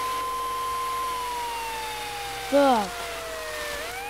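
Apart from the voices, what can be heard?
fire truck siren in video game GTA 3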